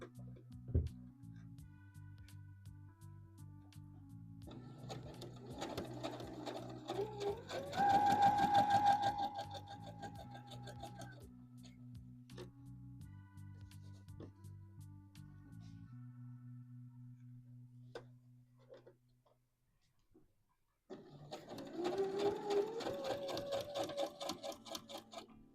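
A home sewing machine stitching the side seam of a McCall's M8141 misses' dress, running in steady whirring bursts with pauses between, fairly quiet, with someone talking softly at times.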